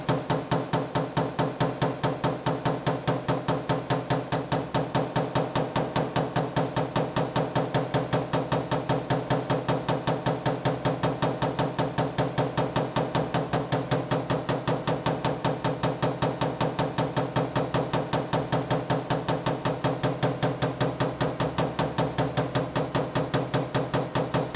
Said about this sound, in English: now I'm going to hit over in this area with that same light pick hammer with no dolly